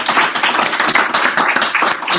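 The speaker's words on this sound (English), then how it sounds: "A big a round of applause for all three of our presenters" A live audience at an instructors' network social wine and cheese gathering bursts into steady applause for three presenters, dense overlapping clapping sustained close and loud throughout.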